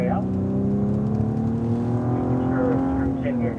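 A Cadillac ATS-V on a race track powers out of a corner, its engine note climbing steadily in a smooth, sustained rising drone heard from inside the cabin while an instructor talks over it.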